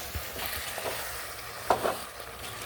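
Tomatoes, potato, soya chunks and mixed vegetables for a hotel-style veg kurma are stirred in a pan, soft scraping strokes over a gentle sizzle with a couple of louder scrapes toward the end, close and unaccompanied by speech.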